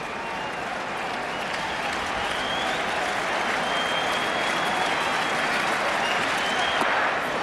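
Sellout crowd at Yankee Stadium applauding steadily during a Red Sox–Yankees game, a dense, continuous wash of clapping held at an even level for several seconds.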